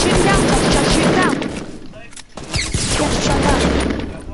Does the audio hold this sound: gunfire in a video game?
yes